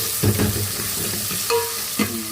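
Gongura leaves fry and are stirred in a pan, with a soft sizzle and a few brief scraping strokes, fairly quiet and close.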